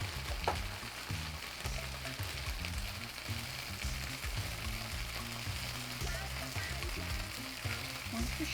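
JUST Egg vegan mixture sizzles and fries steadily in buttery coconut oil on a hot pan, a continuous crackling hiss with small pops, moderately close and alone with no talking.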